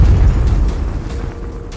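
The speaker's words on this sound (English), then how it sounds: "another took the fringe blast of a proton torpedo" A deep, booming blast from a proton torpedo, loud and close, with a heavy low rumble that gradually decays over under two seconds.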